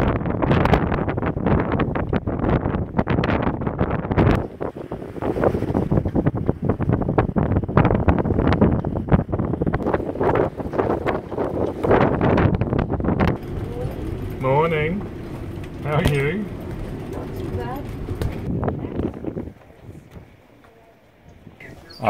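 Strong, gusty storm wind roars steadily against the microphone aboard a sailboat in port, with rattling and knocking underneath, easing near the end.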